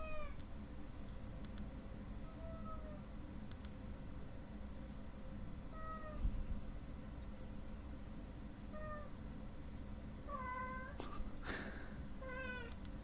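A house cat named Remy meows several times at scattered intervals, short bright cries near the microphone over a steady low background hum.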